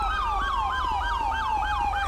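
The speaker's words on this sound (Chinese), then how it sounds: "那台车的警车警笛系统坏了，完全关不掉。" A police car siren in the GTA 5 LSPDFR game, with a faulty siren system that cannot be switched off, wails steadily in rapid repeating up-down sweeps, loud and close over a low engine rumble.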